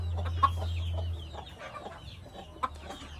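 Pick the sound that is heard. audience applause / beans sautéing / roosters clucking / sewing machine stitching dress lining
roosters clucking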